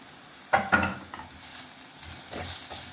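Mushroom chukka tossed with spice powder in a pan: two quick scraping knocks of a spoon early on, then a low crackling sizzle with lighter stirring scrapes, near and moderately loud, no voices.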